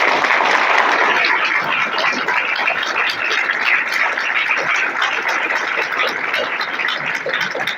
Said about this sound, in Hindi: पिता, पुत्र, पवित्र आत्मा के नाम से एक जोरदार तालियां हो जाएगी।